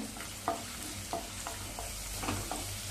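Green chilli pieces and ginger-garlic paste fry in oil with cumin in a pan, a steady close sizzle punctuated by several distinct scraping stirs of a spatula, no voices.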